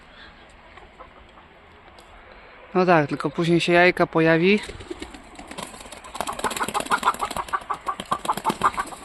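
Chickens cluck and squawk loudly nearby in bursts, some of the lighter hens flying up, with a person speaking over the flock and some rustling of wings.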